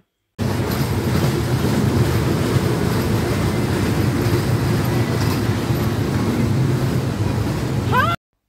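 Continuous low rumbling rattle of a small dragon train amusement ride at a fair rolling along, steady throughout, with a faint squeal right at the end.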